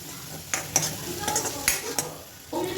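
Spoon stirring a soup base with ginger and chili powder in a pan for a chicken, egg and sweet corn soup: several close scraping strokes over a soft sizzle, with short pauses between them.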